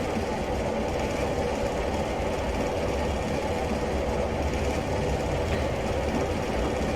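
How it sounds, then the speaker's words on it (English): A diesel train in Train Simulator Classic rumbles and drones steadily at a constant, moderately loud level, heavy low engine noise with no distinct approach swell and no talk. "Another train approaching."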